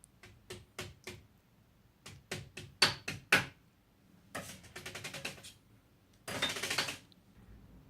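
A homemade xylophone struck with a rubber spatula gives a run of sharp, bright wooden knocks. Single strikes in a quick rhythm come first, then denser rolled bursts near the end, all close and fairly loud with no voices.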